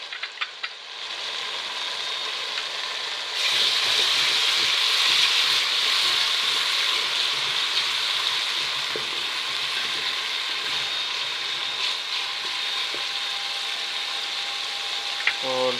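Chopped tomatoes are stirred into golden fried onion, ginger and garlic for a Punjabi-style cauliflower and potato curry; a loud, steady sizzle swells as they go in, with scraping stirs and a few utensil taps, and no one speaks.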